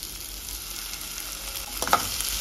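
Ginger garlic paste fries in a pan with asafoetida and a green chilli, giving a steady close sizzle and hiss, with a brief stirring scrape near the end.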